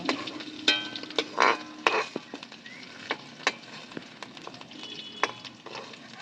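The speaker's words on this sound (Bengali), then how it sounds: "বেগুনটা আরেকটু ভাজবো, বেগুনটা একটু বাকি আছে।" Brinjal (eggplant) pieces fry in hot oil with a steady close sizzle, broken by frequent sharp clicks and taps of a utensil stirring the pan, and no one talks.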